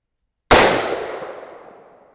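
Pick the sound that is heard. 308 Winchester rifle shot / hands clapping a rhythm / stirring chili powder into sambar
308 Winchester rifle shot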